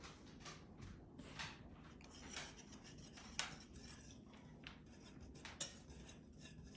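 Dry ingredients for Southmoreland cookies, flour with a dash of salt, whisked in a bowl, soft quiet scraping and light metallic clinks of the whisk against the bowl in an uneven rhythm, close and faint.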